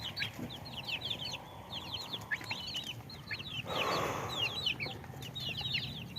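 Eight young native kampung chickens, about two months old, cluck and chirp continuously in a pen. The calls are close, overlapping and steady over a constant rustling background.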